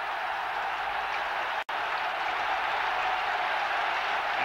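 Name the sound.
stadium crowd clapping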